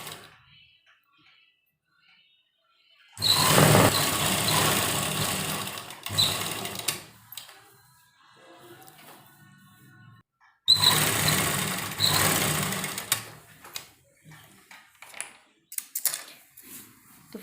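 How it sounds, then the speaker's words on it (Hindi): Sewing machine running double stitching along pajama seams in two long, loud whirring bursts separated by quiet pauses, then short stop-start runs, recorded up close. "इस पर भी डबल डबल सिलाई करेंगे।"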